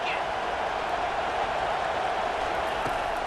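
A stadium crowd in the College Football 25 video game roars steadily as a broad, dense wash of noise, with no clear peaks, continuing at an even level throughout.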